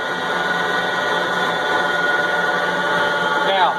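A Moore #3 jig borer spindle spinning at around 1,800 RPM, a steady close mechanical whine and hum with layered tonal bands, continuous and fairly loud throughout with no talk.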